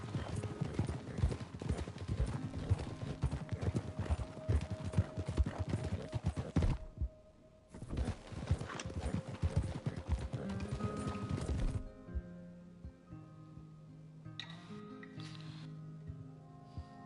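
Horse hooves gallop in the Red Dead Redemption 2 video game, a rapid, loud clip-clop rhythm that breaks off briefly, resumes, then fades under game music and ambience.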